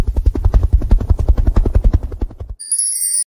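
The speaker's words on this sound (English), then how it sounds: "Helicopter." A helicopter flies close by with loud, rapid rhythmic rotor thumping that throbs steadily for a couple of seconds. It stops abruptly, and a short tinkling chime follows.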